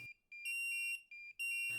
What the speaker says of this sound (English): This is accompanied by an alarm message and a rapid buzzer sound.